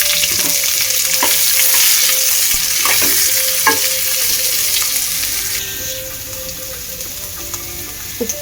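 Onions frying in hot oil for bansi rava upma, giving a loud, close, continuous sizzle with occasional spoon scrapes. The hiss eases somewhat toward the end.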